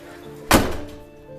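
A door slams shut with a single loud thunk at a historic hotel during a night paranormal investigation, standing out sharply from a quiet room and fading with a short reverberant tail.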